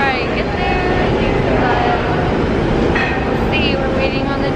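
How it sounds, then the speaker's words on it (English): A New York City subway D train makes a steady, loud rumble at a station platform, with scattered voices and a couple of brief high squeals over the noise. "we're waiting on the D train"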